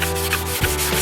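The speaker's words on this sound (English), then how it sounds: "sand down a little more of this" A shaper-type pad rubs back and forth over a surfboard ding repair, a close, steady scratchy abrasion with a short change in stroke near the middle, with no talking.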